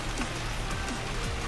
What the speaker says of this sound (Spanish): Ya me agarró la lluvia otra vez.